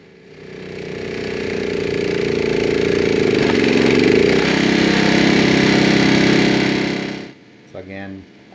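The engine of a Rammy 155 Pro UTV snowblower runs loud and steady, then cuts off sharply near the end, after which a voice speaks briefly.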